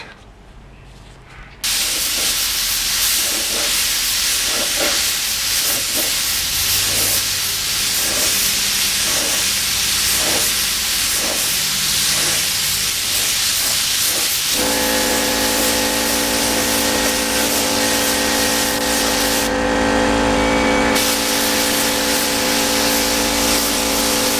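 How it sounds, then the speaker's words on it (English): A spray gun lays thin coats of paint on a Ninja restoration, a loud steady hiss of atomised spray and air that runs almost unbroken after a sudden start, with the tone shifting midway. "I try to use the spray gun like a big airbrush"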